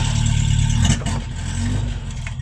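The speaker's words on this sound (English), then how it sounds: "It's driving under its own power." A 1971 Toyota Celica TA22 drives under its own power for the first time in a decade, its engine running steadily and loud up close with a brief surge in the middle, alone without talk.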